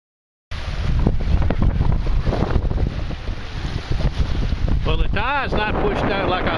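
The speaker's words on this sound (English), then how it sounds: "With this west wind, we got 20 or better. Just blow it right off this beach and dry it right up" Strong west wind blows across a beach on a rocky shore, a steady loud roar buffeting the microphone throughout, with brief faint voices near the end.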